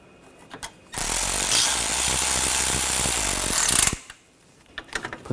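Power tool tightening bolts on the AC condenser of a Buick Encore, a single loud sustained burst of rapid ratcheting whir lasting about three seconds, close up, with quiet handling noises before and after.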